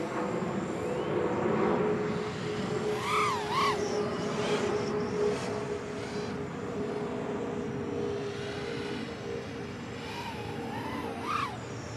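Motors of a Diatone GT-R349 3-inch micro racer drone on a 4S battery whine in flight, the pitch wobbling and rising in uneven oscillating sweeps, fairly faint over a steady background hum.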